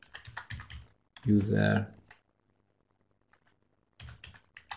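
Keys tapped on a computer keyboard during a lesson on database commands, a dense burst of clicks near the mic, with someone talking before and after.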